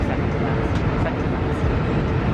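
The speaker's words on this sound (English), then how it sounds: "So this was my first time riding one of these bullet trains" Steady dense rumble and hiss inside a Chinese high-speed bullet train in motion, loud and continuous throughout with no clear talk.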